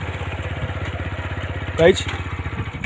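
A motorcycle idles on a deserted road at night, its engine a steady close pulsing throb, while someone briefly talks over it.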